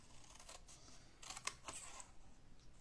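Scissors cutting through paper folds in a quiet room: several short crisp snips, one sharper cut near the middle, faint and close with no talking.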